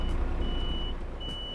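A large tronton tour bus sounds rhythmic reversing beeps while parking, a steady repeating tone over a low idling engine rumble, fairly quiet and with no talk.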